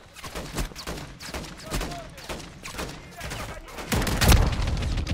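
Gunfire in Modern Warfare Zombies, with repeated shots and bursts scattered across several seconds and a heavier boom near the end, heard over game noise and a little speech.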